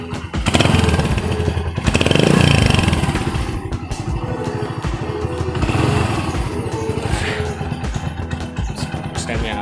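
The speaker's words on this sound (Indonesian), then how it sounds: "mesin nyala" A green ex-agriculture-department Honda Win motorcycle idles loudly up close, its engine chugging in a steady rapid beat with a few louder surges, while someone speaks over it now and then.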